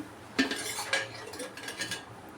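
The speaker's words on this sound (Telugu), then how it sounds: "దీన్ని స్టవ్ మీద కడాయి పెట్టాను" A kadai pan set down on a kitchen stove gives a couple of short, close metallic clanks and scrapes, with no talking.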